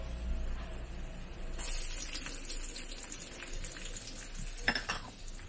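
Chopped onion sizzles as it sautés in a hot pan for chicken menudo, a continuous frying crackle broken by a few brief scraping stirs and one sharp clink near the end, with no one speaking.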